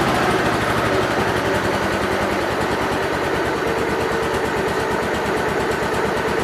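A Gravely 8812G tractor engine with a fuel problem idles steadily and loudly up close, a continuous rapid throbbing drone with no voices.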